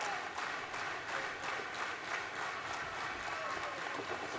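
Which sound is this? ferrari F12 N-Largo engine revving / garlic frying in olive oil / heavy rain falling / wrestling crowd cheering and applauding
wrestling crowd cheering and applauding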